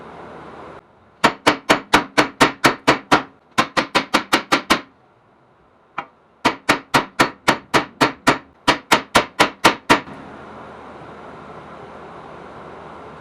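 Loud metallic hammer blows strike the rear wheel hub of a 2010 Ford Taurus, coming in fast rhythmic bursts of about eight to ten hits with short pauses between, close and alone.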